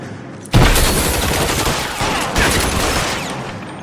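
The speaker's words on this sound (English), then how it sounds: "Guy's got a machine gun, man." Machine gun fire in the L.A. Noire video game comes in two loud, rapid bursts close by, the first starting sharply and a second rattling volley following about two seconds later.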